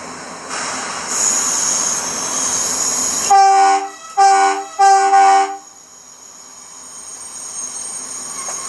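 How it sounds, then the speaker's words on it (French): A TGV high-speed train arriving, heard from a locomotive cab on the Schaerbeek–Tournai line: loud rushing rail noise, then three sharp tonal horn-like blasts, followed by a quieter steady rumble. "le TGV qui rentre, impeccable"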